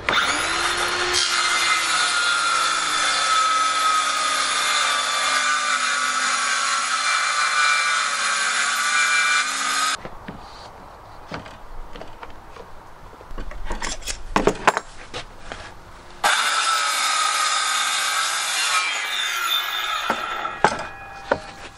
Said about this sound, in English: I'm going to be putting the fence on my circular saw and I'm going to be cutting